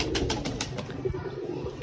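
Pigeons take off and flutter nearby, with quick rhythmic wing beats early on and a low, continuous cooing hum underneath throughout.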